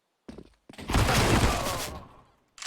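A burst of AK rifle fire in Counter-Strike: a short initial shot, then a loud sustained volley lasting about a second and a half before fading, followed by another shot starting at the very end.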